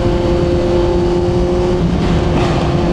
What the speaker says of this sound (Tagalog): Lalo na yung sounds ng exhaust natin